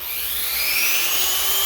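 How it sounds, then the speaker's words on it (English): A Dremel rotary tool spins a buffing pad with Autosol metal polish across guitar frets, giving a steady, close, high-pitched whine with a slowly rising tone and no pauses. "I'm just going to use my Dremel and a buffing pad and some of this autosol metal polish"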